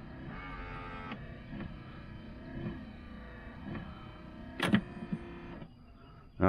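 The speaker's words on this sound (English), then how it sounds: "That's when you hit the washer. It'll squirt out and go around a couple times." Windshield washer and wipers on a 1985 Chevrolet IROC-Z run with a low motor hum and repeated soft sweeping passes, followed by a few sharp clicks and clunks near the end, fairly faint and close.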